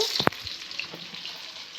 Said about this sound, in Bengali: এটা কি বড়া ভাজা নাকি মা কিসের বড়া এটা হচ্ছে ছোলা কচুর বড়া